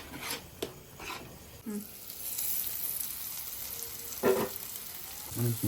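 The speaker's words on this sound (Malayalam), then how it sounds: "ഗ്രേവി നല്ല ചൂടായി സെറ്റായി വരുന്നുണ്ട്" Creamy paneer tikka masala gravy bubbles and sizzles in a hot pan, a low steady frying hiss with scattered sharper spits and pops, close by with no talking.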